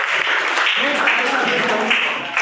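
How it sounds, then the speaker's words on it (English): A classroom of students applauds for a classmate, a continuous patter of many hands that runs under a voice speaking over it. "clap for Aisha"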